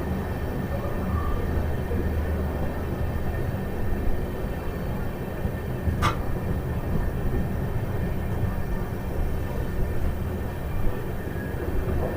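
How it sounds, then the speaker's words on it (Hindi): An LHB-coach Kotdwar Express arriving at Muzaffarnagar station gives a steady low rumble of wheels and coaches rolling on rails, moderately loud and continuous, with one brief sharp click or squeal partway through. "1:57 पर हमारी ट्रेन का अराइवल हो रहा है मुजफ्फरनगर का"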